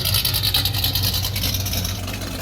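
A 1970 Pontiac LeMans with a 455 V8 running with a new MSD ignition box, a steady loud rumble with a deep low-end drone and constant hiss, no talk.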